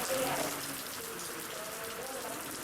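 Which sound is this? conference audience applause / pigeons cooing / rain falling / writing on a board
rain falling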